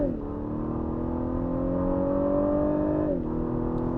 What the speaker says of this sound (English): Oh, I'm gonna put it into Sport S Plus.